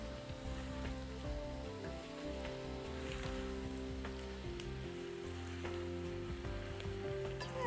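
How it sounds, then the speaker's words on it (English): Spinach added to a pan of softened onions in Turkish-style Mediterranean vegetarian cooking, giving a steady, dense sizzle that runs unbroken for several seconds at close range with no talk. "And then I'm going to add the spinach."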